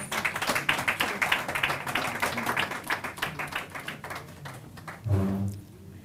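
Scattered audience clapping at a press conference, a crowd of hands patting unevenly at moderate distance, thinning out before a short burst of voice near the end.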